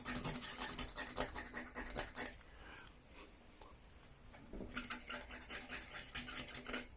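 A white composite cleaning pencil insert scrubs crusty buildup in quick, dense scratchy strokes for about two seconds, pauses into near quiet, then resumes the same brisk close rubbing near the end.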